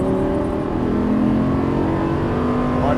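A Lamborghini Gallardo engine pulling hard on a race track, a loud, close, steady drone with rising harmonic tones as it accelerates through a gear without a break.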